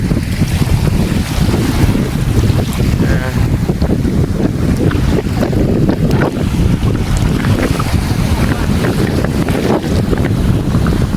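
Strong wind buffets the microphone on a Thai seashore at Na Kai, roaring steadily and loudly throughout with waves and surf washing beneath and faint voices now and then.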